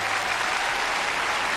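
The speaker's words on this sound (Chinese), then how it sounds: "让我们把充满崇敬的掌声送给雪健老师" A large audience at a television drama awards gala gives actor Li Xuejian warm, sustained applause, a dense, even roar of many hands clapping with no voices standing out.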